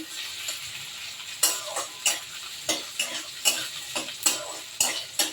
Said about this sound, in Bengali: ফোড়নটা একটু ভাজা ভাজা হবে